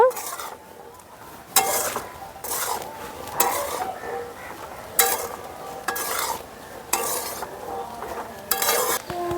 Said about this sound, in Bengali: ভেজে রাখা গুঁড়ো মশলাটা এখন দিয়ে দেব। নাড়াচাড়া করে মিশিয়ে নেব।